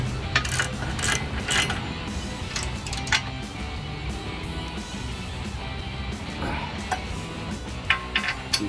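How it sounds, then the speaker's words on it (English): Metal clinks and ratcheting ticks as bolts are tightened with a crescent wrench on a Barricade winch plate fitted to a Jeep Wrangler JL factory front bumper, irregular small clicks and knocks over a low steady hum. "We're gonna get the crescent wrench just to hold that on."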